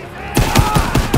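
A rapid burst of gunfire in Call of Duty WW2, several punchy shots in quick succession, loud and close, starting abruptly after a brief lull.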